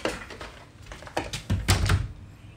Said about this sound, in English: there's a cat scratching at this door,